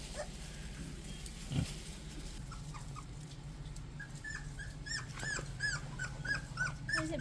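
Maremma puppies on a porch, a litter of about nine, giving faint high whimpers and small yips that grow busier toward the end over a steady low background hum.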